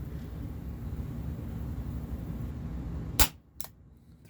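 A Walther PPS M2 airsoft pistol fires over a chronograph: a steady low background hum, then two sharp, crisp pops about half a second apart, the first louder, with nobody talking.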